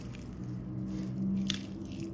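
Prawns being mixed with masala by hand for a prawn fry, a soft continuous wet squishing and squelching at close range with a low steady hum underneath.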